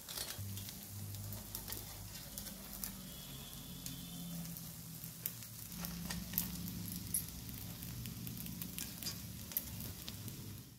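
Rava appe cook in a covered pan over a low flame, making a quiet, steady sizzle scattered with small crackles and pops that carries on evenly throughout, with no voices.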